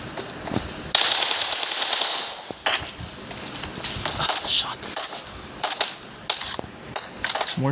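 Bursts of video game gunfire, sharp crackling shots in quick clusters and rapid strings, loud and close, with brief gaps between volleys and faint voices in the background.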